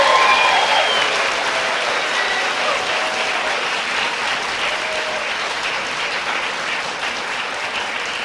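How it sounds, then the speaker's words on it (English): An audience at a high school senior awards night gives a big round of applause, dense clapping sustained loudly throughout and tapering only slightly toward the end. "Give them a big round of applause for their achievements."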